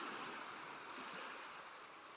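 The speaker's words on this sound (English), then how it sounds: "The waves run in and then rush out again with a whoosh." Ocean waves wash onto a beach at night, a soft, distant, steady rush of surf with a faint whoosh that slowly fades.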